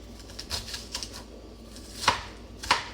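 A knife chops onions on a cutting board, a handful of sharp, irregular thuds with a couple of louder clacks near the end, close and unaccompanied.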